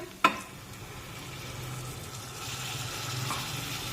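A single clink, then a soft, steady sizzle that swells gradually as a little water hits fried spice masala in a hot pan.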